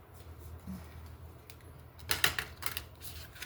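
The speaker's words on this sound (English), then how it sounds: "I will just shuffle these once" A deck of oversized tarot cards being shuffled once, a soft riffling burst of card flutter that rises briefly after a quiet stretch of room tone.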